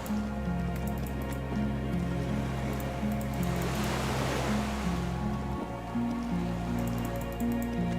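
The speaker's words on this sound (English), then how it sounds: "The skiff is swaying on the waves by the dock." Steady water washing and lapping against a dock with a small skiff, from the video game Disco Elysium, with a low droning music bed running underneath throughout.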